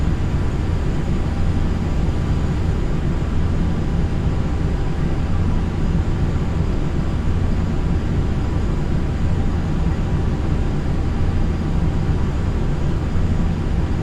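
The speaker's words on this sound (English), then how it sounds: "Once we're about 50 feet over the runway, reduce thrust to idle and pull back on the stick slightly to touch down on the main wheels first" Aircraft in a flight simulator video game descending to touch down on a runway: a loud, continuous, even engine roar and rumble that holds steady throughout, with no voices.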